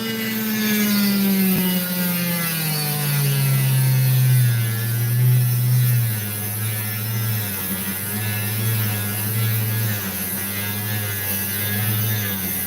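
An opal is cut with a saw through its sandy part: a loud, continuous droning whine with steady tonal hum that shifts slightly in pitch as the blade works, with no talking.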